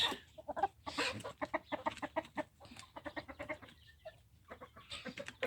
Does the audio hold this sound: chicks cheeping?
yes